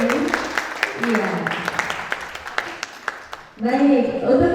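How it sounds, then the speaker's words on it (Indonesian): An audience at a session on Yogyakarta history and ketoprak theatre applauds a female ketoprak performer, with claps under ongoing talk before louder voices take over near the end. "Beri tepuk tangan Ibu Hardi Sundari."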